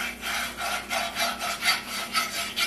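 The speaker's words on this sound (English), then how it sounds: "And what this whisk does is it blends it." A whisk stirs roux in a pot for Creole gumbo, making steady rhythmic scraping strokes, about four per second, close and clear, with no talking over them.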